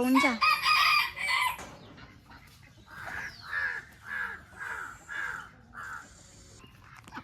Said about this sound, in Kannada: ಇಲ್ಲಿ ನಾಟಿ ಕೋಳಿಗಳಿದ್ದಾವೆ ನೋಡಿ, ಕರಿತಾ ಇದೆ